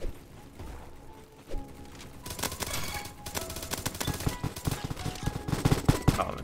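Rapid bursts of automatic Famas rifle fire in the Roblox shooter Bad Business. After a few quiet seconds, the shots come as dense, rattling volleys, getting louder and busier toward the end.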